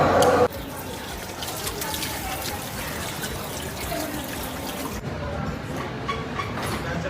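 Water from a tap runs steadily while someone washes their face at a sink, a continuous rushing flow after a brief louder sound at the start.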